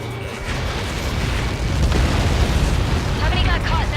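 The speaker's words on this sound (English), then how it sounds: "How many got caught in that explosion?" Massive Helios projectile impact explosion in the Ace Combat 7 video game, a deep sustained booming roar that swells and rolls on for several seconds.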